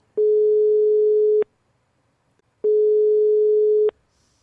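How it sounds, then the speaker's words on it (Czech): Two long steady telephone ringback tones, each over a second, separated by a pause of silence. "Jak slyšíte, telefon vyzvání."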